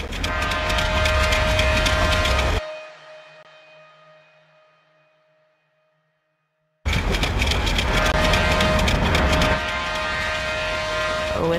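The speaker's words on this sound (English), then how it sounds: "A whistle blew, clicketing down the track." A steam train in a dark story setting rolls loudly down the track with dense rattling clatter, drops into near silence for a few seconds, then surges back at full, steady volume, a narrating voice faintly present.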